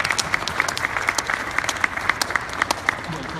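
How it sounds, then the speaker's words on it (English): Applause with a few distinct, sharp claps standing out in a loose rhythm over a softer bed of crowd clapping. "I want to give them a round of applause"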